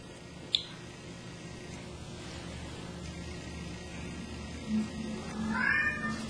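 A pet cat meows near a new Geiger counter, giving a soft, drawn-out cry near the end over a quiet, steady indoor background with a brief click earlier on.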